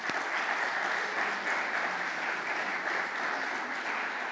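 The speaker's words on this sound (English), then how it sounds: "And a round of applause for Dr. Visal" Steady applause at a panel forum on education for Dr. Visal, a continuous even wash of many hands clapping throughout, moderately loud and unbroken.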